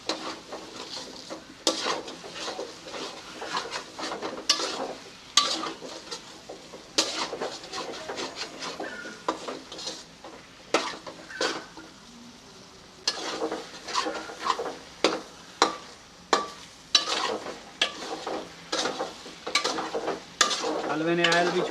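Suji halwa with coconut being stirred in a frying pan, a spoon scraping and clacking in irregular strokes over a soft, steady sizzle, close and fairly quiet.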